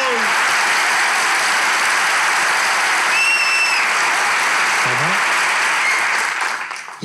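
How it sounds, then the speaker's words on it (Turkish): A studio audience at a Turkish comedy talk show claps loudly and continuously, a thick wall of applause with a few faint tonal sounds mixed in, fading at the very end. "Hemen de güzel bıraktınız alkış."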